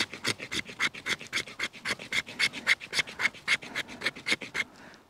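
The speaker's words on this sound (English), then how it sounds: "So let's see if we can scrape a little fatwood with this knife." A bushcraft knife scrapes fatwood in quick, even strokes, about twenty rasping passes in a steady rhythm, close and clear, before the scraping stops.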